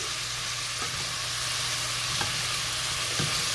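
Clam chowder ingredients being stirred together in a pot over medium heat, a steady soft sizzle and bubbling with a few faint scrapes of the spoon, close and continuous without talk.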